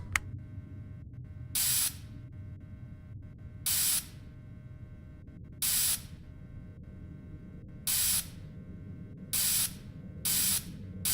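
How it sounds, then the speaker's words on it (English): Six short hissing bursts of spray fall at roughly even intervals over a steady low electrical hum, cleaning down an animatronic suit in FredBear and Friends: Left to Rot, with no one speaking. "So go ahead and start spraying the suit"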